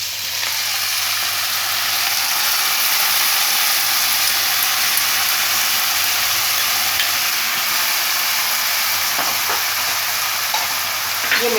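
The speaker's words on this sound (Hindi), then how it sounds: "ये लहसुन और हरी मिर्च हमारी ऐसे भुन गई है। अब इसमें मैं ये पालक डाल दूंगी।" Spinach dropped into a kadhai of frying garlic and green chillies, a loud, steady hissing sizzle with steam filling the whole stretch, with faint stirring knocks near the end.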